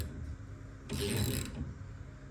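A bearing puller working the tailshaft centre bearing off a Holden Commodore, giving a louder burst of grinding, ratcheting mechanical noise midway through a quieter workshop background, with no talking.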